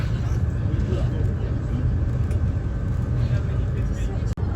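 A bus drives through a safari park in Germany, giving off a steady low engine drone and road rumble with a sharp knock near the end, while people talk faintly over it.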